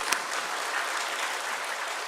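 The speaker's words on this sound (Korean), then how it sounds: "박수 치세요." A church congregation claps steadily for about two seconds, a dense, even patter of many hands close by.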